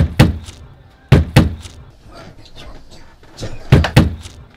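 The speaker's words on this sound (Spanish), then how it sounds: "¡Están tocando! ¡Abre la puerta!" Sharp knocks hit a door in quick clusters, with a door thudding in between and hard close bangs, all close and loud inside a house.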